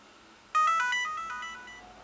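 An LG GS155 mobile phone plays its power-on tone: a bright chiming melody of quick electronic notes that starts abruptly, then decays slowly and rings out alone in near silence.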